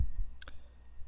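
A computer mouse clicks on the OK button in Photoshop CS6, giving a couple of quick, faint clicks close to the mic with no speech around them.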